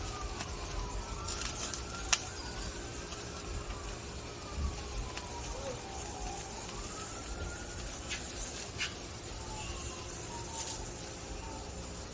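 Distant sirens wail faintly, their pitch sliding up and down, over a steady background hum with a few sharp clicks.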